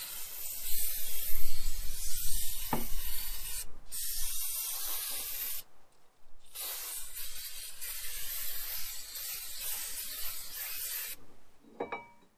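Brake cleaner aerosol sprayed onto a car's brakes in long, loud hissing bursts that come close together, broken by a few short pauses and a faint metallic tick near the end.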